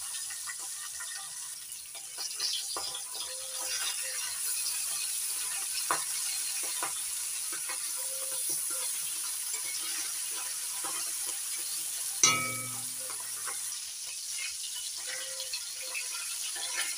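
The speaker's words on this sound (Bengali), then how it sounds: "বাকি মাছগুলো ভেজে নিচ্ছি।" Fish fry in a pan with a steady, even sizzle that runs the whole time, broken by a few faint clinks and one sharp knock, and no voices.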